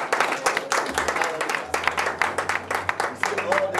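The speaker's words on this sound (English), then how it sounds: "Can you clap for this man of God?" An audience in a church gathering claps for a preacher, a steady burst of many hands applauding together at moderate distance, with voices faintly underneath.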